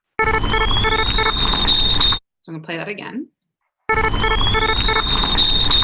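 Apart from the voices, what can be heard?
tea kettle whistle alarm sound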